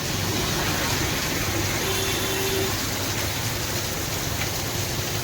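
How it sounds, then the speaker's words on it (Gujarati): Heavy rain pours down steadily in a continuous, dense hiss that stays loud and even throughout, with no talk over it. "અત્યારે વરસાદ ધોમધમાટ છે"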